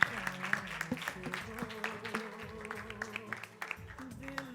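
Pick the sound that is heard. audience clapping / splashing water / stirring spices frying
audience clapping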